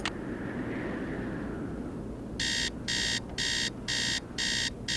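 An alarm clock rings in the video game Nancy Drew: Treasure in the Royal Tower, giving five loud, evenly spaced electronic buzzing bursts over a steady low background hum.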